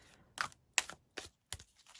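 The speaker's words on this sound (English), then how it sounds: "I'm going to try and shuffle on camera as best as possible." Tarot cards being shuffled by hand, giving four or five short, crisp riffling bursts spaced roughly evenly, close and fairly quiet with no talking.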